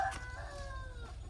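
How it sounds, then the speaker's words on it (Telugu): A rooster crows once at a village home with a vegetable garden, a short, faint call heard from a distance over a low background rumble. "ఇగో అవి వచ్చేసి కోళ్ళు"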